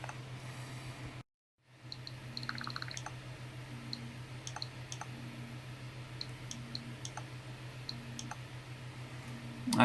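A Nintendo Switch Joy-Con button is pressed repeatedly, giving small sharp clicks at irregular intervals over a low steady hum, with faint electronic beeps in the background.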